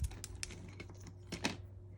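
Scissors snip through a strip of tape or paper in a few quick, close cuts with sharp clicks, the tape sticking to the blades, over a low steady hum.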